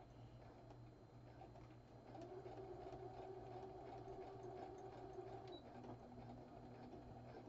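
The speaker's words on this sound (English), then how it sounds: "Okay, and then we're just going to sew." A sewing machine stitches a fabric wrist cuff, its motor whirring steadily at a close, quiet level for several seconds and shifting pitch slightly near the end, with no voices.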